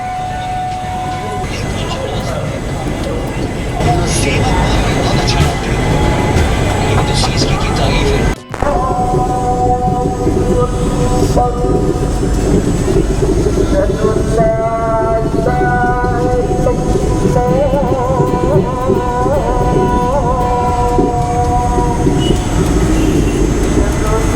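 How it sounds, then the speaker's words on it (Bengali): A passenger train pulling out of Vijayawada Junction station, its steady rumble and rattling wagons building and filling the whole stretch, with a sharp knock partway through and voices chatting aboard. "এখন এখান থেকে ছেড়ে দিচ্ছে ট্রেন"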